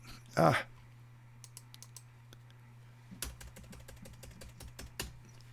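Keys clack on a computer keyboard in a quiet room, scattered single taps and a short quick burst of typing over a low steady hum, with a brief voice at the start.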